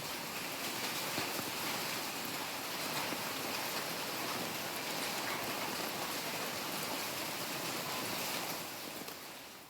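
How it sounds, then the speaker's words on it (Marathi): Unseasonal rain falls steadily in rural Maharashtra, a dense, even hiss of drops that stays loud and unbroken throughout. "अवकाळी पावसानं अचानक हजेरी लावली"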